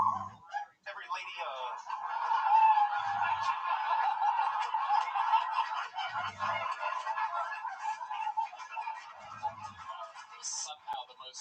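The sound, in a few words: Jungle Bird soundboard button sound effect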